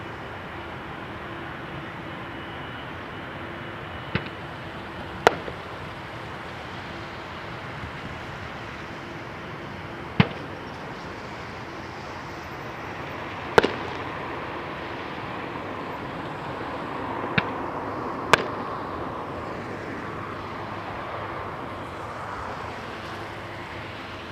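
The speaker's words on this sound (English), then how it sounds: "You can hear the fireworks being set off by the Schiphol scarecrows." Loud steady aircraft engine roar fills the air at Amsterdam Schiphol Airport while several sharp distant bangs from bird-scaring fireworks pop out at irregular intervals.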